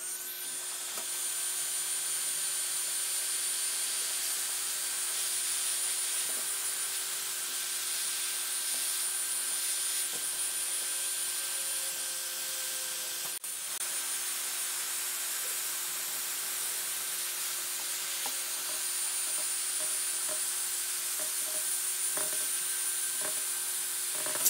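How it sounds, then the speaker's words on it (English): Heat gun warming tape on a blast cabinet to release the glue in a garage, a steady unbroken blowing hiss with a constant high whine running throughout, close and even. "I'm using a heat gun."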